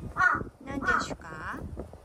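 A crow gives several close, harsh caws in quick succession, loud and distinct, each with a rasping throaty tone.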